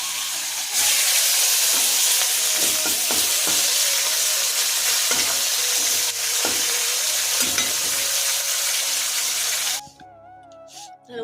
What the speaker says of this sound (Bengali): আর মাছ ভাজা হবে, মাছ জ্বলে যাবে, মাছ থেকে আগুন বেরোবে, ধোঁয়া বেরোবে।